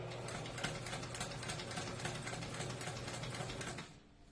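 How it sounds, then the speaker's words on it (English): A sewing machine stitching a lapped zipper seam, a steady fast mechanical whir and needle clatter running continuously up close before stopping abruptly near the end. "the needle is stitching right next to that on the left side"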